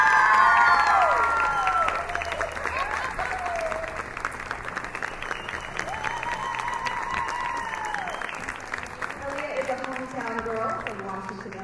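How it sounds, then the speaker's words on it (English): Applause and cheering from a pageant audience as a winner is announced, a loud burst of clapping that continues steadily with whoops and shouted voices rising over it. "Please give a big round of applause for Miss Aaliyah Addison Welty."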